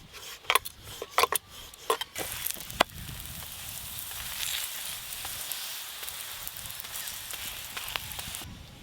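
Aloo paratha fries in a pan with a soft, steady sizzle, broken early on by several sharp clicks and knocks of utensils, then settling into a quieter continuous crackle.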